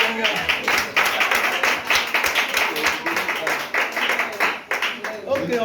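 Church congregation applauding at a worship service, dense continuous clapping close and loud throughout, with voices mixed in underneath.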